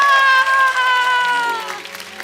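A studio audience on a Hindi comedy talk show claps and cheers to welcome guest performers, the applause mixed under a loud sustained musical chord that swells at the start and then fades toward the end.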